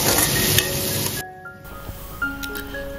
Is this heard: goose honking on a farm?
no